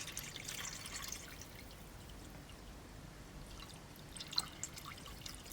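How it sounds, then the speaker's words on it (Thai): Rice-rinse water and pickling brine for pickled mustard greens being poured in, heard as a soft, steady trickling and splashing stream, faint and close, with one brief louder drip near the end. "ใส่น้ำซาวข้าวลงไป แล้วก็น้ำดองจากครั้งแรกนะคะ ใส่ลงไปค่ะ"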